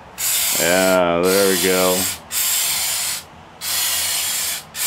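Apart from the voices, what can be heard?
spraying aerosol window sealant from a can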